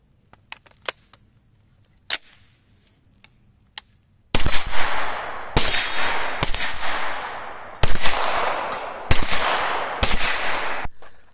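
A Beretta CX4 Storm 9mm carbine fires at a range. A few faint clicks and taps come first, then loud, sharp shots at irregular intervals, each with a ringing tail.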